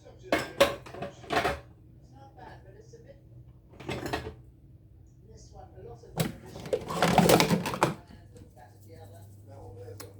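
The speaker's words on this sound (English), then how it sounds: "I wash my dishes along the way." Dishes, pans and cutlery clatter and clink in a kitchen sink during washing up after cooking, with scattered knocks and a longer rattling burst near the end, all loud and close.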